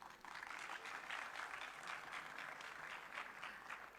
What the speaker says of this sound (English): Now at least I should get a good round of applause,